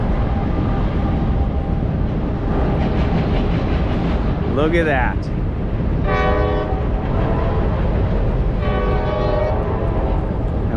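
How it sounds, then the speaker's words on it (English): A train passing at Harpers Ferry, West Virginia, with a loud continuous rumble and wheel clatter, a horn blast in the middle and more horn tones after it, while a person speaks briefly. "A train."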